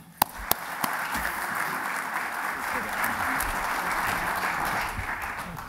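An audience at a talk on reporting cyber risk to the board claps to welcome a speaker to the stage. A few sharp early claps swell into sustained, fairly loud applause that lasts throughout.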